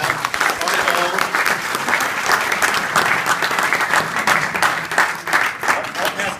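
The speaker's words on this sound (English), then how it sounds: "how about a round of applause for Pat coming out on his own?" A room of officials at an NCBOA social gives Pat a round of applause, a sustained wash of many hands clapping, loud and even for several seconds, with a few voices murmuring underneath.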